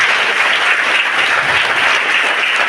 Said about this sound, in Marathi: आपण जोरात टाळ्या वाजवून त्यांचं विशेष परत एकदा अभिनंदन करूया